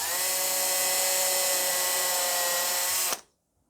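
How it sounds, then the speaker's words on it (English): A power drill whines steadily for about three seconds at a constant pitch while drilling a pilot hole, then cuts off abruptly into silence. "Mark where that hole's going to go and drill that pilot hole."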